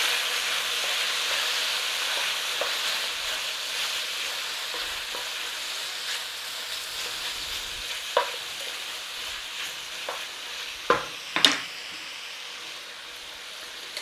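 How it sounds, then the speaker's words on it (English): Beef stir-frying in a pan with garlic and ginger in oyster sauce gives a steady sizzling hiss, broken by a few sharp clanks and scrapes of stirring near the end. "In with our beef, quick stir."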